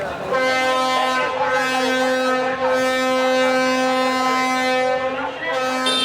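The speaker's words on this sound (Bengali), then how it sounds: "কিছুক্ষণ পরপরই লঞ্চের সাইরেনের শব্দ" A passenger launch at a busy river ferry terminal sounds its siren in one long, loud, continuous horn blast with rich harmonics, steady for about five seconds before fading, with faint crowd noise beneath.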